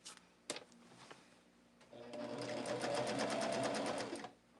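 A sewing machine stitches the seams of a quilt's inner border, running slowly and steadily for a couple of seconds after a few clicks and knocks, close by.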